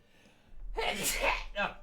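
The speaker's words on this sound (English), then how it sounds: "Sorry, I just had to sneeze there." One loud, close human sneeze bursts out after a moment of near silence, followed by a brief breathy tail.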